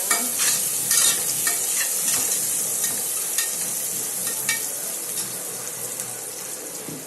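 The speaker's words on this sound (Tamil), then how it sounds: "நல்லா வதங்கிட்டு பாருங்க." Masala for chicken biryani sautéing in a pan, a steady close sizzle with repeated scraping and stirring strokes throughout, no voices.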